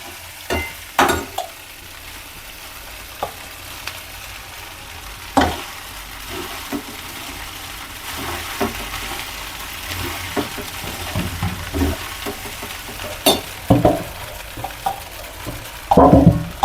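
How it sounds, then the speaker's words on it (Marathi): Poha being stirred a little at a time in a pan, with soft scraping and light sizzle under a steady low background and a few sharper clinks and knocks scattered through. "आता टाकून घेते पोहे, थोडे थोडे टाकूनच फिरवायचे"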